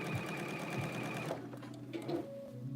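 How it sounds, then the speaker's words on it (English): A sewing machine stitches a pants seam at a 5/8 seam allowance, running in a fast, steady whir for over a second before stopping, followed by softer mechanical clicks and handling sounds. "I'm sewing everything at the 5/8 seam allowance"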